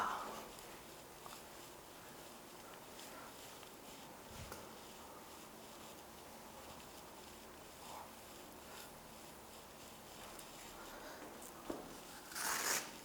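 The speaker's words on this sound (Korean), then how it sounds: "지우개 패드를 한번 갑니다" An eraser pad rubbing a board clean, a steady, faint scrubbing rasp running continuously, ending with a brief louder swipe.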